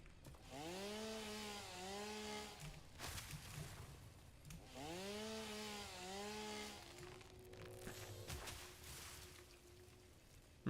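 A chainsaw in the video game Satisfactory cuts through trees in two long revving buzzes with rising and falling pitch, followed by a crash and a steadier lower drone as another cut runs.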